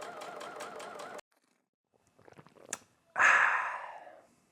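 A sewing machine stitches fabric in a fast, steady mechanical whir for about a second, then stops, followed by small rustles and a soft breathy exhale.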